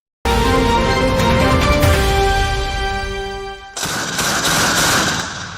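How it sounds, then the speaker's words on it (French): Sustained heavy and light weapons gunfire in combat near Kibumba in the Democratic Republic of Congo, a dense continuous roar of shooting that shifts into a harsher burst partway through, loud and close with no talk. "Des tirs nourris à l'arme lourde et légère s'écoutent depuis l'aube de ce samedi 28 décembre les environs de Kibomba"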